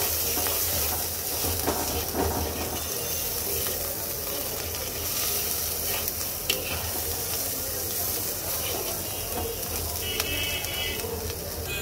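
Masala of salt and cumin powder fries in a pan for a potato and soya chunk curry, sizzling and hissing steadily throughout with occasional stirring clinks.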